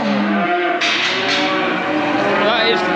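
Cows bellow loudly and continuously nearby after their calves have been weaned, one long drawn-out moo flowing into another with a rising, strained pitch, filling the whole stretch.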